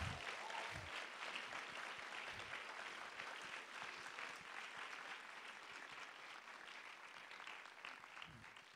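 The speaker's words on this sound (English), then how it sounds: "This would be the time for loud applause." A lecture audience gives sustained applause, a dense, even wash of clapping at low level with a couple of whoops mixed in, continuing throughout.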